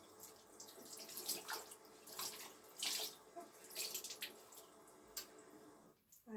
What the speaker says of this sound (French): je viens mouiller mon éponge